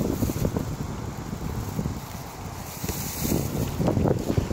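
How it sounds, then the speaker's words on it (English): Wind blowing outdoors on a sunny day, buffeting the microphone with a continuous, loud, broadband rumble that swells and eases in gusts, with no talking. "Now the wind picked up."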